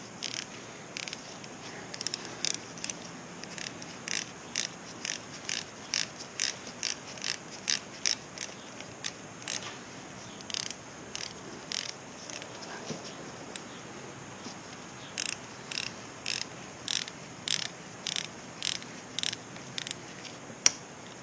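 Ratchet wrench tightening an engine bolt on a Kawasaki Z125 Pro during an engine reinstall, heard as bursts of quick, crisp clicks in regular rhythm with short pauses between runs, close and alone.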